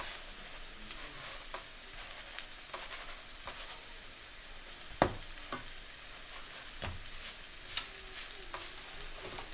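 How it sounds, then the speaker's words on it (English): Burger buns fry in butter in a pan at a Lahore street food setting, a soft, steady sizzle with occasional light clicks and taps of a utensil, faint and continuous without any talk. "I'll use the same butter to fry each side of these buns as well"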